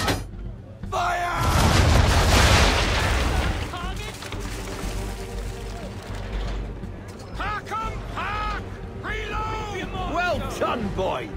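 Naval cannon broadside from a ship in Assassin's Creed 3, a heavy booming volley rolling out loud and close, followed by creaking wooden mechanisms and shouted commands and other voices over the ship sounds.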